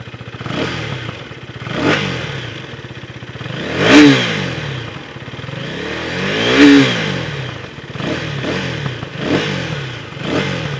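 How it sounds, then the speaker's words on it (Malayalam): Exhaust of a 2024 KTM Duke 250 motorcycle being revved repeatedly, several sharp throttle blips that swell and fall away, loud and close with no speech. "ഇനി ഇതിന്റെ എക്സോസ്റ്റ് നോട്ട് ഞാൻ നിങ്ങൾക്ക് കേൾപ്പിച്ചു തരാം."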